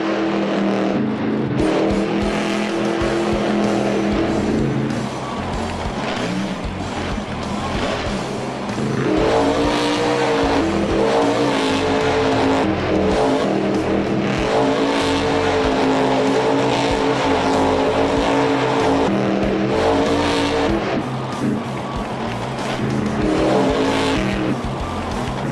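Medusa monster truck in the Monster Jam video game, running on a hill climb course, its engine droning loudly and steadily, with revs rising and falling and tires scrabbling throughout, no talk.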